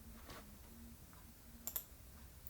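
Two quick mouse clicks on a booking link in a music-lesson scheduling web page, close and fairly faint, with soft clicking earlier over low room hum.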